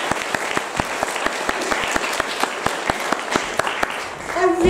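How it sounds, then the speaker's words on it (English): Audience of schoolchildren and adults applauding their teachers after a school nativity play, steady close clapping with sharp individual claps standing out, swelling slightly toward the end. "can you give your teachers a round of applause?"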